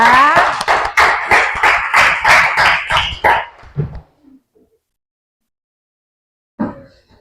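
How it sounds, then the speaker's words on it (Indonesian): Children clap in a classroom with a quick, rhythmic burst of group clapping and voices for about four seconds, followed by quiet and one brief later noise. "Itu kuat sekali dia punya tepuk tangan."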